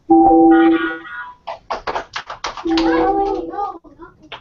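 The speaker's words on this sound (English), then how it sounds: "give us an applause and wave" A school class on a group video call claps in short, crisp bursts between children's voices, with someone talking before and after the brief spell of applause.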